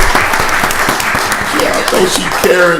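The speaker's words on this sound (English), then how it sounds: "Give her a round of applause." Audience at a county board of commissioners voting session gives a round of applause, steady loud clapping filling the short stretch while a voice talks over it toward the end.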